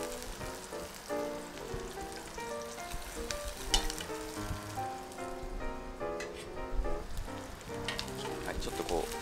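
Capers sautéing in a pan, a steady close frying sizzle with light crackles throughout, the pan being gently shaken, while background music plays along underneath.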